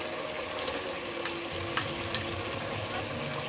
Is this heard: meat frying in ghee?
yes